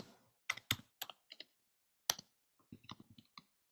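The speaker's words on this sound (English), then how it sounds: "I am typing." Someone types on a computer keyboard, close and quiet, with scattered key clicks in two short bursts separated by a pause.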